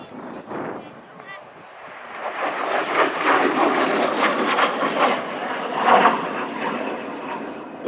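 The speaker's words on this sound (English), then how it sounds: "demonstrating just how versatile the Harrier jump jet can be" A Sea Harrier FA2 jump jet performs a hovering demonstration at the 2012 Dayton air show, its engine a broad, loud roar that swells and holds for several seconds, buffeted by wind noise.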